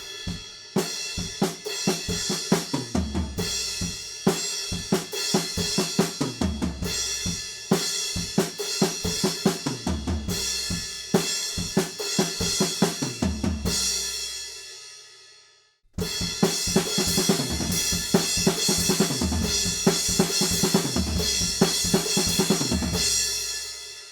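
A full drum kit plays the looping chorus ending of a song, with steady driving hits and cymbals, a brief drop near the middle, then a return at full volume.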